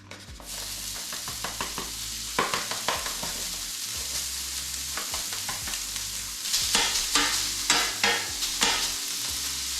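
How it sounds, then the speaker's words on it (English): Bacon frying in a pan, a continuous crackling sizzle with repeated scraping and stirring strokes and occasional louder pops, close and steady throughout with no talking. "first thing we gotta do is get this bacon going"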